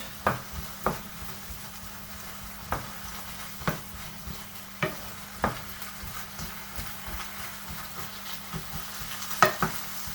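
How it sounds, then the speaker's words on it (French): Sliced bell peppers frying in a pan for a vegetable curry, stirred with a utensil that knocks about once a second over a steady soft sizzle, fairly close and moderately quiet, with no talking. "c'est maintenant que je vais pouvoir rajouter les poivrons que j'ai découpés. Donc, pareil, je mélange."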